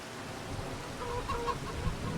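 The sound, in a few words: chickens clucking in coop, video game Farming Simulator 25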